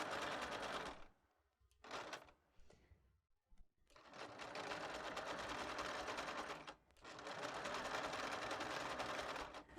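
Sewing machine zigzag stitching a T-shirt hem with a ballpoint needle, running in two long steady whirring bursts separated by short pauses and brief handling noises, close and loud.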